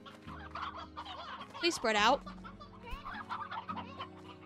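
Chickens in the video game Slime Rancher cluck loudly in a short burst near the middle, with softer game sounds and a voice talking around it.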